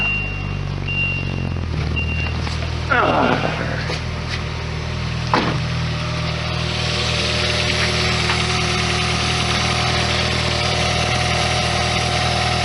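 A 1991 Lotus Elan engine cranks briefly, catches and settles into a steady running drone, close by and filling the rest of the clip.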